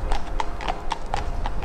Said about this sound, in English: Don't like horses, they're too big,